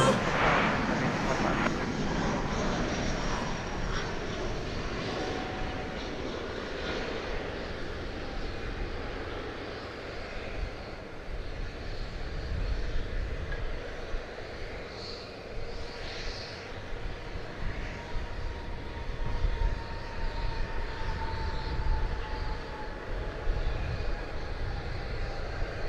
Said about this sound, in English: It was Delta Flight 839, an Airbus A321 coming in from its home base of Atlanta